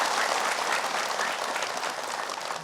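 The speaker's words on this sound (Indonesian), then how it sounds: "Tepuk tangan semuanya." Audience applause during an Islamic religious talk, a dense, continuous wash of many hands clapping that stays fairly loud and tapers slightly toward the end.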